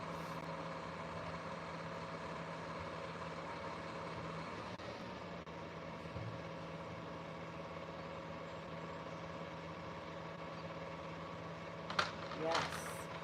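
A single garbage truck idles outside, a steady low engine drone holding at moderate, fairly distant level throughout, with a couple of brief clatters near the end.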